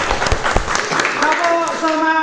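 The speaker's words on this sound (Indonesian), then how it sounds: "tepuk tangan dulu untuk kita semua." A class claps hands during a lesson, a quick ragged burst of clapping that trails into a voice speaking with a sustained, tonal delivery.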